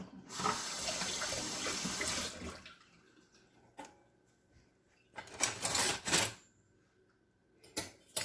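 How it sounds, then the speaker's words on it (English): Hands rinsed under a running kitchen tap while making homemade brownies, a steady rush of water for about two seconds, then short bursts of splashing flow between quiet gaps. "let me rinse my hands off real quick"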